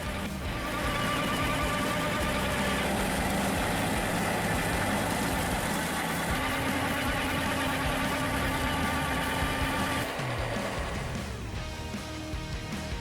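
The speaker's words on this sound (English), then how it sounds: "this is a Maripete earth-moving machine based on a Suoco S500 crawler tractor" A heavy diesel engine of a Suoco S500 crawler tractor earth-moving machine runs steadily and loudly at a constant idle, a dense rumbling drone that fades slightly near the end.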